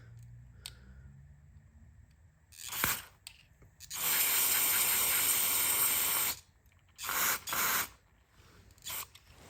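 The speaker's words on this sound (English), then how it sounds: "Is that spraying out the bottom somewhere?" Cleaner sprayed in sharp hissing bursts through the fuel primer bulb of an outboard motor, one long blast followed by several shorter spurts, close and loud with no talking.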